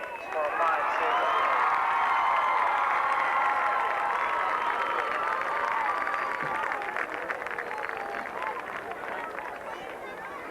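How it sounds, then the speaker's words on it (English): Crowd applause and cheering at a 1996 high school football ceremony between Del Mar and Gunderson, a loud sustained roar of clapping and voices that stays dense throughout, easing slightly toward the end. "let's have a nice round of applause for both teams for a fine season"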